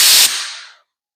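Compressed air blasted through a paint spray gun nozzle during car rust repair work, a loud close hiss lasting under a second that quickly tails away to silence.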